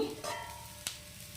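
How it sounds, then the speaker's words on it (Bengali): Poppy seeds, garlic, green chilli, peanuts and flattened rice fry until crisp in a pan, a soft sizzle broken by a couple of sharp stirring scrapes, close and fairly quiet. "পোস্ত রসুন কাঁচা লঙ্কা চিড়ে দারুণ খেতে হবে গরম ভাতে একটু মচমচে করে ভাজছি"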